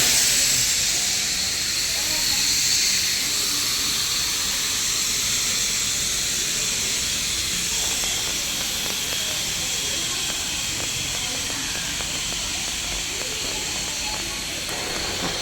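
At a railway station, a train gives off a loud, continuous steam-like hiss, close by and steady for the whole stretch, with faint voices and platform bustle underneath.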